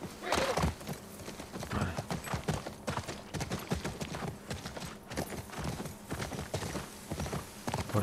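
Horse hooves clip-clop at a steady gallop in the video game The Last of Us Part II, close and continuous, with a brief whinny near the start and a constant bed of game ambience underneath.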